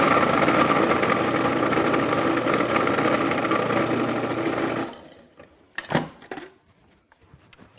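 A countertop blender whirs through a Southwest shrimp salad dressing, giving a steady, loud motor drone for about five seconds before cutting off, followed by a few clattering knocks and near silence.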